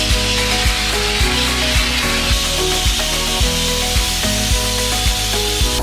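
A glass blasting machine strips a 1972 MCI MC-7 bus, putting out a loud, continuous gritty hiss over a rhythmic machine thump that repeats roughly twice per second, close by and without voices.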